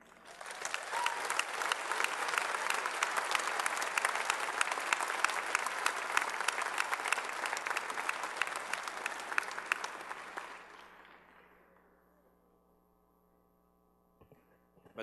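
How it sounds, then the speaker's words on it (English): A graduation ceremony crowd at Casper College in 2012 claps in sustained, dense applause for about ten seconds before it fades out, leaving a low hall hum and quiet room tone. "Another round of applause, please."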